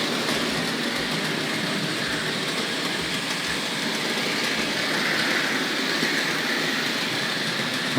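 A Hornby Dublo model train, a Bristol Castle locomotive pulling super detail coaches, runs steadily on its track with a continuous rolling rumble and faint rhythmic clicking, close and alone without talk.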